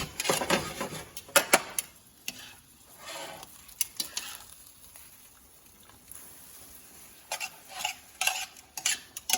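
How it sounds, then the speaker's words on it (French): Spaghetti is stirred in a pan with oil, butter and pancetta off the heat, giving irregular scraping and clinking of a utensil against the pan with faint sizzling between the strokes. "On mélange bien avec l'huile, le beurre, la pancetta."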